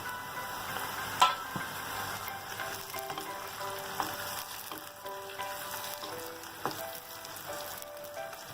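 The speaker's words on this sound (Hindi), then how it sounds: "वो प्याज फ्राई हो गया, अब इसके अंदर हम टमाटर डालेंगे।" Onion and tomato sizzle and crackle steadily in a hot pan, with occasional soft clinks and stirring knocks, quiet and close.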